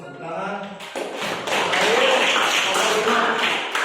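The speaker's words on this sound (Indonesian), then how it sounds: "Bagus, tepuk tangan." A classroom of students starts clapping after a brief bit of speech, and the clapping builds into a lively, fairly close round of hand claps that lasts to the end.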